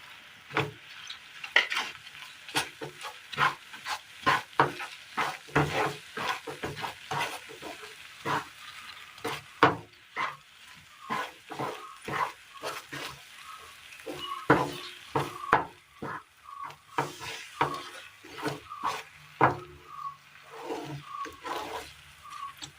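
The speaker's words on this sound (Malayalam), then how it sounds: "ചട്ടിയിൽ നിന്ന് വിട്ട് കിട്ടുന്ന പരുവമാവുന്നോടം വരെ നമുക്കിത് ഇളക്കി കൊടുത്ത് ഇതിൻ്റെ നീരൊന്ന് വറ്റിച്ചെടുക്കണം." A mango, semolina and milk powder mixture is stirred in a pan, the spoon scraping and slapping against the metal in quick, repeated, uneven strokes, with a soft sizzle underneath and no talking.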